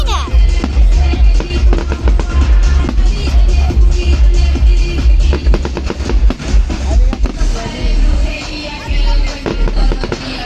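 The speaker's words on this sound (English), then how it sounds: "7 minutes basically fireworks." New Year fireworks over the Tampa Riverwalk: dense, loud crackling and popping bursts arrive in rapid overlapping volleys with deep booms underneath, sustained throughout.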